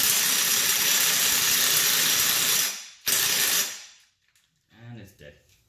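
A ratchet tightens a bolt on a car's coilover shock, giving a close, fast, rattling clicking for a few seconds that stops briefly, resumes, then ends as a voice speaks.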